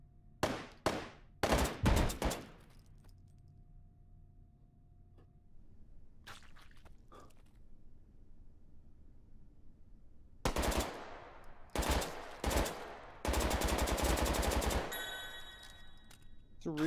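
Glock pistol shots in the VR shooter H3VR: a few sharp cracks early on, a long quiet stretch with faint handling noises, then several louder clusters of rapid shots near the end.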